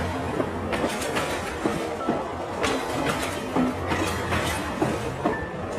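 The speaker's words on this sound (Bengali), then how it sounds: "ট্রেনটা ছেড়ে দিচ্ছে তো।" A train pulls out of a station at night with steady rhythmic clattering wheels and metallic knocks, fairly close and continuous.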